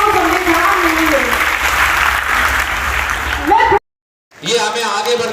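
Dense, sustained applause from a crowd at a girls' government higher secondary school Independence Day program, loud and continuous, breaking off abruptly into silence before resuming with voices over it.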